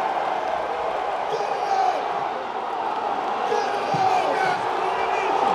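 Arena crowd at a strongman competition cheering steadily to urge on strongman Brian Shaw during his second attempt, a dense continuous roar with shouts under a commentator's voice.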